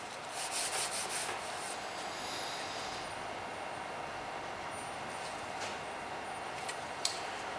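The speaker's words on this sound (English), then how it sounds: "then we'll sand this. I'm going to use some 400" Wood coated in Tru-Oil is hand-sanded with 400 grit sandpaper, making a continuous close, dry rubbing hiss with slight stroke-by-stroke swells and a small knock near the end.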